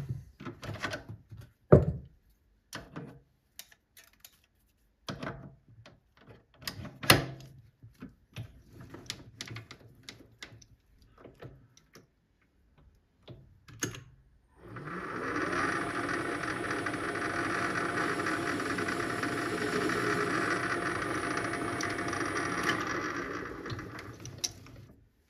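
Proxxon MF70 milling machine cutting a chamfer on a gear: scattered light clicks and taps at first, then a steady loud motor whine with high tonal hum begins partway and runs continuously to the end.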